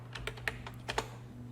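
Quiet, close keystrokes clatter on a computer keyboard in a brief irregular run of light taps, with no voices.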